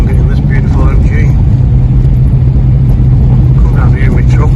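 Steady engine drone and road rumble inside a moving 1957 MG Magnette ZB saloon, loud and continuous, with a person speaking over it.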